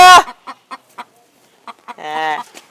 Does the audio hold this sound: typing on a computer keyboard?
no